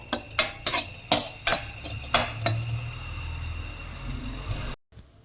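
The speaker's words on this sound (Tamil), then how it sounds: "தேங்காயை வந்து நம்ம ட்ரையாக வறுக்க போகிறோம்" Grated coconut dry-roasting in a pan for a sweet snack, with a run of sharp metallic spoon clinks against the pan followed by softer stirring and scraping, close up.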